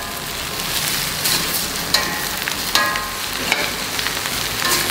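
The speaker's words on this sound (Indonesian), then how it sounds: "Kita tumis sampai sayurnya matang semuanya." Steady loud sizzling of vegetables and spring onions being stir-fried in a hot pan, with occasional utensil scrapes and clinks over the continuous frying hiss.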